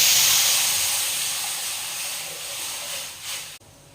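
Rasam poured into hot oil tempered with mustard seeds, cumin and a dried red chilli, giving a loud, broad sizzling hiss that slowly fades before cutting off abruptly near the end.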